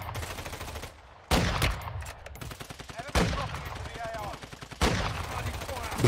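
Gunfire from the mobile video game Warzone Mobile comes in three loud, sharp bursts of rapid shots, separated by quieter gaps with faint game sounds and some voice.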